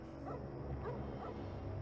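A dog in the video game Parasite Eve 2 gives short yips and whimpering barks, three or four soft bursts over a steady game background hum, fairly close but not loud.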